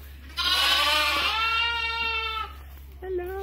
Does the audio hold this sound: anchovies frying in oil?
no